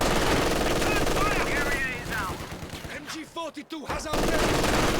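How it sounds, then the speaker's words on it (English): German MG42 machine gun fire in a multiplayer combat video game rattles in dense, loud bursts, breaking off into scattered shots and voice chatter in the middle before the heavy fire returns. "The Germans rely too much on machine guns."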